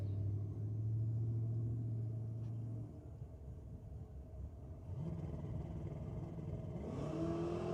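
A Holden BK Commodore drag car with an LS 5.7 engine at a drag strip, a loud distant engine drone that rises in revs, dips, then climbs again in sweeping pitch bursts.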